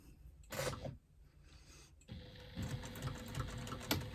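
A sewing machine stitches a wristlet bag, a short whirring burst followed by a steadier, faint mechanical rattle that runs on quietly.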